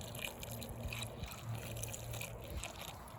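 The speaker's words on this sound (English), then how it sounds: "So let's give them some water and fertilizer." Water mixed with fertilizer trickles onto potted chilli plants in a garden, a faint, soft, steady splash and dribble into the soil heard alone.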